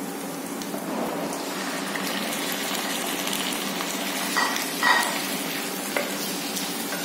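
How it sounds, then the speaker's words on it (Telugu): Half a kilo of chicken goes into a pan of onions, green chillies and curry leaves, setting off a steady broad sizzle with stirring scrapes and a couple of louder splashy bursts near the end. "ఇప్పుడు ఏం చేద్దామంటే దాంట్లో చికెన్ వేసేయండి 1/2 కేజీ."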